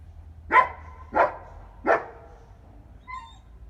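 A dog gives three loud, separate barks about half a second apart, sounding close, followed by a faint high whine, in a quiet room.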